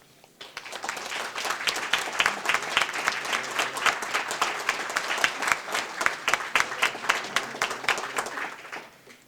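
Audience at a business recognition breakfast applauds an award winner, dense clapping that swells in quickly, holds steady and loud, then tapers off at the end.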